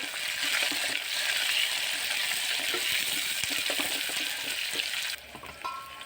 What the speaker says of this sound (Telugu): ఇవి బాగా చిట్పుట్లు ఆడాలి చూడండి సౌండ్ ఎంత బాగా వస్తుందో